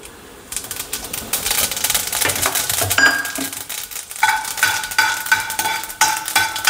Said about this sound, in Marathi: तेल आता गरम झालेलं आहे आणि मी आता उडीद आणि थोडंसं हरभऱ्याची डाळ टाकत आहे। बरोबर मी मोहरी घालत आहे थोडीशी।